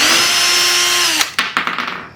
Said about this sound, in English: I will just take my drill and then just pop those screws off